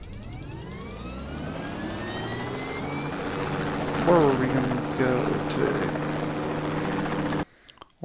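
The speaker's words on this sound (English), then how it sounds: "Hop in our helicopter and take off" A helicopter takes off in the video game Just Cause 2, its rotor and engine droning loud and continuous with a rising whine, while a person talks over it; the sound cuts off abruptly near the end.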